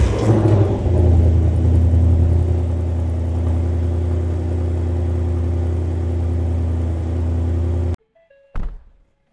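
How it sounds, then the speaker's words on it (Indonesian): Ford Mustang Dark Horse cold start: a loud engine catch and roar, then a steady, deep idle rumble that runs for several seconds before cutting off abruptly, followed by a brief clunk. "ayo kita dengerin suara mobil ini waktu cold start"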